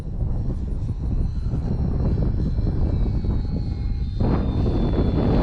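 A small FT Freedom Fox radio-controlled plane buzzes overhead on a windy day, its electric motor a steady drone over loud, continuous wind rumble buffeting the microphone.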